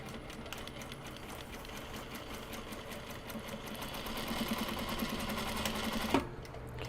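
A sewing machine stitches a seam on a bag made of Japanese fabric, running as a close, steady rapid mechanical whir that speeds up slightly before stopping abruptly near the end.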